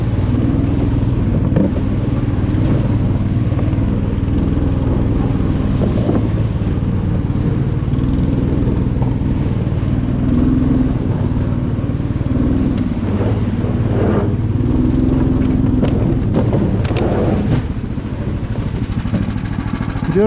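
A Uragan all-terrain vehicle drives at night on a spring duck-hunting trip, its engine giving a loud, constant low drone with rumbling and rattling throughout, heard from inside with no talking.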